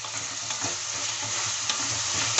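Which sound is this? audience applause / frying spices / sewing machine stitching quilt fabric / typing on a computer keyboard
frying spices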